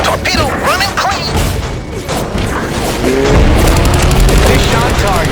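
A torpedo strikes its target in Heroes of the Pacific: loud, continuous rumbling booms and crackling gunfire roar throughout, dense and close, with a voice shouting over the battle noise.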